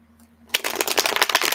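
After a quiet start, a quick riffle of playing cards being shuffled, a rapid crisp fluttering burst lasting about a second.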